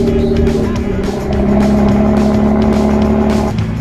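A car engine rumbles steadily and loudly up close, with a continuous low drone and slight rises in revving throughout.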